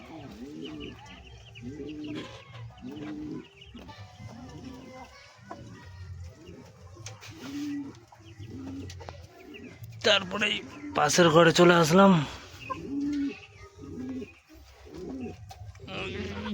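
Pigeons in a pigeon farm, including pairs of local desi birds, give repeated low, rhythmic coos close by while someone talks over them, with a louder flurry of calls midway.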